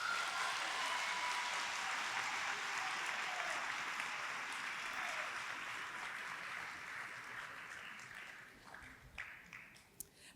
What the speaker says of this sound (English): Please cheer for the person whose hard work deserves applause,